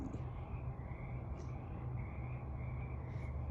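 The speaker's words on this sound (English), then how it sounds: "Just listening to all the frogs." Many frogs croak together in a chorus near a garden polytunnel in spring, a continuous layered rasping with a few sharper calls standing out over the background.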